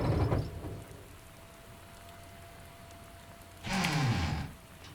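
Rain falls in the tank game Steel Beasts, a faint steady hiss with two louder swells of rumbling noise at the start and near the end.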